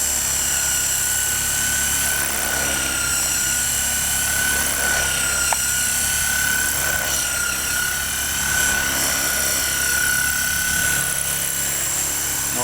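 An SX2 coaxial helicopter in test flight on a windy day, its rotors giving a loud, steady whine and drone that holds throughout with no one speaking.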